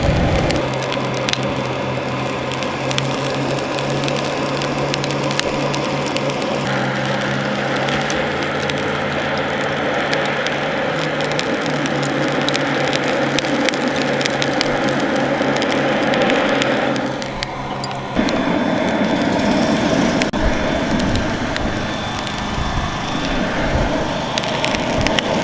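An Electro-Torch blows a steady, loud rush of hot air into a pile of charcoal to light it, with continuous crackling and popping from the heating coals, and a brief dip partway through.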